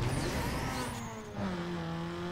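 A car in the Need for Speed Underground 2 racing game revs under a nitrous boost, with a rising engine whine that dips and climbs again, moderately loud and brief, with no talk.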